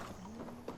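Horse hooves clip-clopping in Assassin's Creed Valhalla, a few quiet evenly spaced steps over a steady low game-ambience hum.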